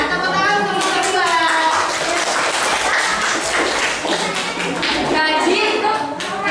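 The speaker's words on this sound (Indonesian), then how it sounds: "Ya, tepuk tangan untuk yang kedua." Classroom applause during a group riddle contest, a steady dense clatter of many hands clapping at once, close and continuous for several seconds with scattered children's voices mixed in.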